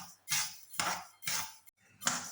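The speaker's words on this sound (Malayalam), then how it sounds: "ഇതൊന്ന് നമുക്ക് വറുത്തെടുക്കാം" Lentils (cherupayaru and parippu dal) dry-roasting in a hot pan for payasam, tossed in four distinct bursts of gritty, rattling scraping, each lasting about half a second with short pauses between, close and fairly loud with no talk.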